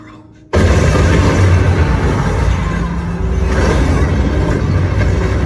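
An explosion tears through the arena in The Hunger Games: The Ballad of Songbirds and Snakes, a sudden loud boom that becomes a sustained heavy rumble while a narrator speaks over it.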